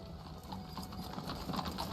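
Horse hooves clip-clop steadily in a Kingdom Hearts Dream Drop Distance game scene, a busy patter of hoofbeats mixed with game sounds at moderate, fairly even loudness.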